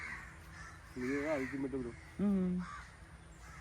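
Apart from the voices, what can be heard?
crows cawing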